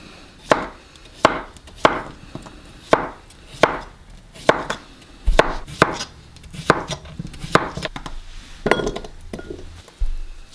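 Cucumbers for a fried rice garnish are chopped with a knife on a board: about a dozen crisp, evenly spaced chops, close and clear, with faint clinks and no speech.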